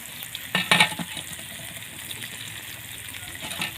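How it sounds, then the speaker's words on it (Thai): Chillies stir-fried in hot oil in a pan over a wood-fired stove for pad kaphrao, with a steady sizzle and a short burst of spatula scraping and clinks near the start. "ทีนี้เราก็ ผัดพริกให้หอมสักหน่อยหนึ่ง"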